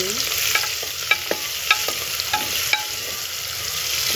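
Chopped onion with curry leaves sizzles in a hot pan, a steady close hiss broken by small crackles and pops, with occasional soft clinks of a stirring spoon and no voices.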